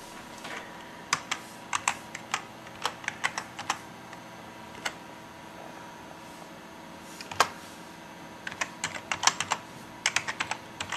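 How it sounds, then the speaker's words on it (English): Someone types a username and password on a computer keyboard at an Ubuntu login screen, sending out irregular bursts of quick, close key clicks separated by short pauses, with no talking. "We enter the username and password for the first user we created."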